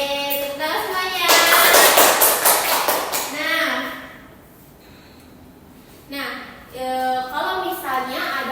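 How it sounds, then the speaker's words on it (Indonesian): Students in a classroom clap together briefly, a dense patter of hands rising under excited voices and fading out, followed by a quiet pause before a teacher resumes talking. "tepuk tangan semuanya."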